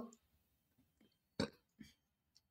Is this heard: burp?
yes